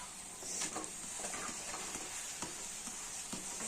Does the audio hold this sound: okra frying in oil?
yes